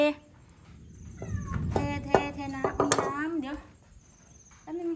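A cat meows in an abandoned house, short rising cries close by, while people talk and a voice imitates meowing to call it down.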